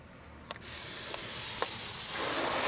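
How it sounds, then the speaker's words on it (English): Water spray hisses steadily from a hose or washer as lovebugs are rinsed off a vehicle's front, starting abruptly after a couple of faint clicks and continuing as an even, close rush. "First thing we're going to do is rinse off the LoveBugs."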